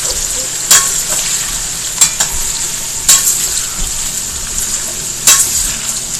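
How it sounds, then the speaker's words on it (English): Parboiled potatoes frying in hot grease, a loud close sizzle with sharp spattering pops and occasional stirring clatter at irregular intervals. "So these potatoes, I parboiled them for about 8 minutes or so. And then we're going to fry them off."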